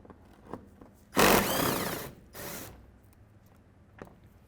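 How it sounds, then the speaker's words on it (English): A ratchet tool removes a 10mm bolt from the center engine splash shield of a 2010-2015 Hyundai Sonata, with two close, brief bursts of clicking and whirring against a quiet background. "over here, we're going to take out this 10mm bolt"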